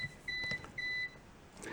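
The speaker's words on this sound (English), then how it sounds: "in the manual it tells you how to turn off all alarms" An APC Back-UPS 450 battery backup unit sounds its alarm: two sustained electronic beeps, each about a quarter second long, in a quiet room, followed by a brief click at the end.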